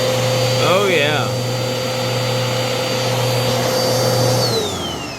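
A Bissell Cleanview 2492 vacuum cleaner roars continuously up close, with a person's voice briefly over the motor early on, then the motor winds down and its pitch drops near the end.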